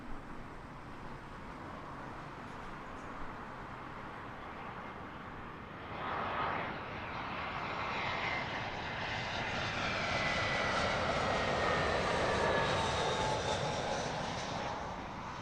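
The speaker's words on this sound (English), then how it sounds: "This British Airways Airbus A319 about to touch down from Berlin." A British Airways Airbus A319 arriving from Berlin descends to land at Heathrow Airport, its engine roar building from a distant rumble into a loud, sustained whoosh that swells and holds through the second half, with no voices.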